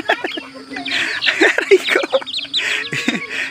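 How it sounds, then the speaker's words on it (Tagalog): Heritage chickens and chicks cluck and cheep nearby in a rapid, overlapping chorus of short calls and high peeps, fairly close and lively. "Ito yung mga heritage chicken natin guys"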